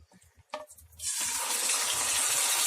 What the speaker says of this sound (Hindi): तेल गरम हो चुका है, हम इसमें आधा किलो गोश्त डाल देते हैं।